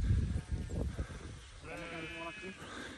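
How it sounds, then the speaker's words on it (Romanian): Sheep bleating on a mountain farm, a few calls with clear harmonic tone in the second half, following rustling and low rumble, with people talking nearby. "Ia uitați ce bine arată oile."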